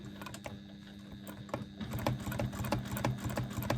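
Sewing machine stitching steadily during free motion quilting, a fast even mechanical chatter close by that grows slightly louder partway through, with no talk.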